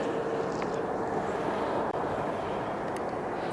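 An arriving airliner at Philadelphia International Airport gives off a broad, steady, distant rumble mixed with wind buffeting the microphone, with no talking over it.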